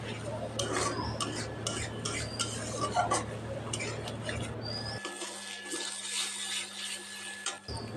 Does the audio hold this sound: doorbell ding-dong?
no